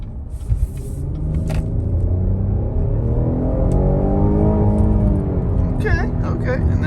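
A 2022 Cadillac XT6 mid-size SUV accelerating hard in manual mode with paddle shifters, engine droning loudly from inside the cabin as revs climb and hang, a voice briefly heard near the start and end.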